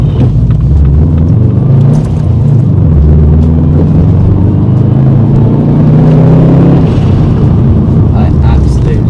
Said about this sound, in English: So I'm gonna go and park up somewhere and I'm gonna do a launch and you can hear what it sounds like.